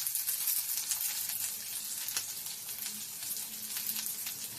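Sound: frying carrot and beetroot for chicken curry

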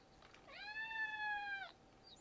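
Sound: cat meowing

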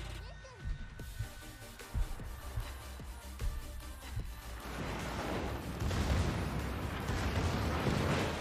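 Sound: warship guns firing in a naval video game

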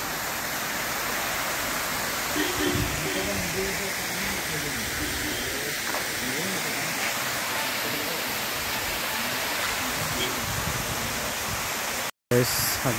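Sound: waterfall on the road to Kodaikanal

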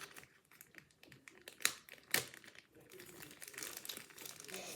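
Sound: smartwatch packaging being opened, crinkling

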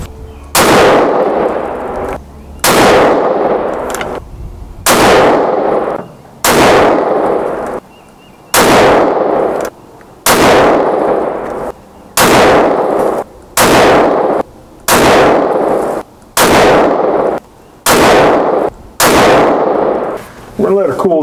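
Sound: rifle shots with Kauger action rifle

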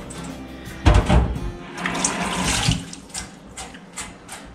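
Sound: tap water running while washing goat bones

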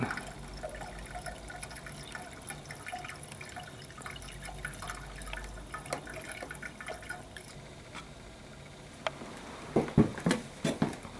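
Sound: water poured into a steam boiler

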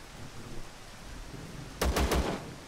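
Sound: gunfire in the video game Zero Sievert

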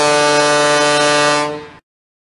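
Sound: toy fire engine horns

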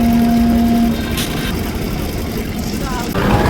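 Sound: trawler boat engine carrying passengers

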